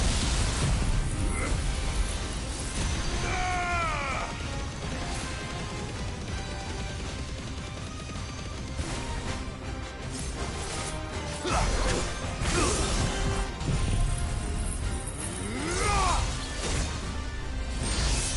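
A Judgment Bolt attack in a video game lands as repeated crashing, smashing hits with whooshing sweeps and mechanical clatter, loud and dense throughout, with bursts recurring every few seconds.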